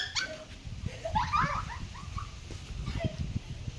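A dog whimpers and yips softly in short, high whines, fairly close, over low background noise and faint voices.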